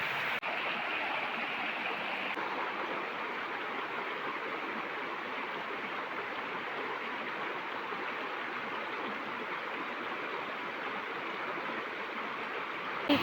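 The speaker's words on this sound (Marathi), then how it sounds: "इकडे बघा मस्तपैकी धबधबा" A waterfall in the Konkan countryside, a steady, full rushing roar of falling water that holds at an even level throughout with nothing else over it.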